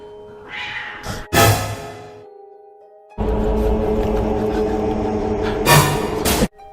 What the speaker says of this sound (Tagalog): nakarinig na ang lalaki na may hawak ng kamera ng isang pusa na para bang sinakal